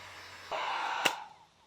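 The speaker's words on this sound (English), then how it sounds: "I'm gonna go ahead and take the heat gun, warm up what is the wrap" A heat gun switches on with a sudden steady blowing whoosh while warming vinyl wrap on a 5th-gen Toyota 4Runner TRD Pro hood scoop, with a sharp click midway before the airflow fades.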